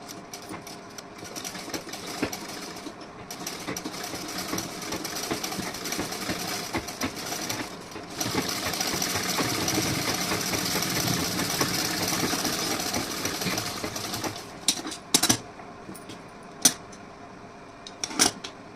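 A sewing machine stitches a decorative neckline design, its motor running in a continuous mechanical whir that grows louder in the middle, then stops and starts in a few short bursts toward the end.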